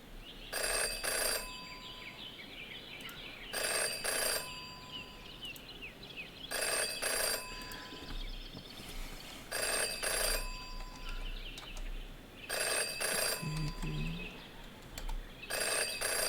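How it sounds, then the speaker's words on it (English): Telephone ringing in the Jenny LeClue video game: a bright electronic ring in repeated double bursts every few seconds, loud and clear over a low, murky ambient background. "Jenny had learned never to ignore a ringing phone"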